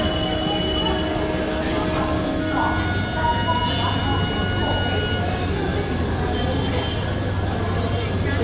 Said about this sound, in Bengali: ওই যে সিগন্যাল দিল, ট্রেন আবার ফাইনালি ছাড়ছে।